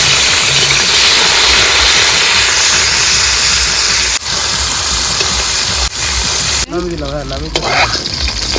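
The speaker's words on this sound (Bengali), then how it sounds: "ফ্রাইড রাইসের জন্য সবজিগুলো ভাজা হবে তাই তো হ্যাঁ সবজি ভাজা হবে দিলাম" Loud, steady sizzling of vegetables for fried rice frying in a hot pan, with a few sharp clatters and a brief voice near the end.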